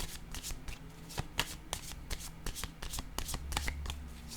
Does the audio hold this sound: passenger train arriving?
no